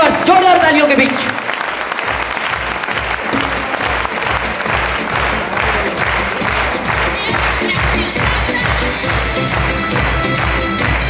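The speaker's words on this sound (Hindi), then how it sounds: "एक बार जोरदार तालियां, come on the stage all royalty achievers, जोरदार तालियों के बीच।" Loud, sustained applause fills a large hall as achievers walk onto the stage at a business event, with rhythmic clapping, steady crowd noise and a background beat throughout.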